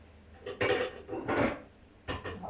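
A metal pan lid is handled near a greased frying pan, giving a few short clanks and scraping rubs in separate bursts, close and moderately loud, with no talking over them.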